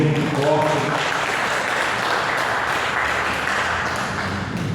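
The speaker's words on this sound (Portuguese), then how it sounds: "Vamos aplaudir o Senhor." A church congregation applauds during a Portuguese-language worship service, a dense wash of clapping under a leading voice early on, sustained evenly across the clip.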